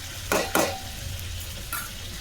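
Tomato pickle mixture with tempering spices cooks in a pan, with two sharp scraping stir strokes early, then a steady sizzle and another brief scrape, close and alone.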